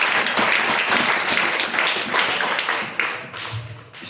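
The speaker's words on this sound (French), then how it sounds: "On nous applaudit le Seigneur pour passer ça" Church congregation applauding during a worship service: dense, loud, close clapping from many people that thins briefly near the end, with a few voices mixed in.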